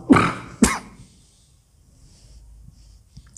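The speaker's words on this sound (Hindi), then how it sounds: "खांसी आ गई मेरे को" Two sharp coughs in quick succession, close and fairly loud, followed by near silence with faint small noises.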